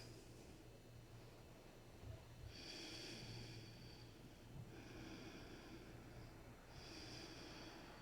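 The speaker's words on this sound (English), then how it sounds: "And breathe." Slow, deep breaths during a vinyasa yoga session with overhead reaches, heard as three long, soft inhale-exhale cycles, faint and close, with no talking.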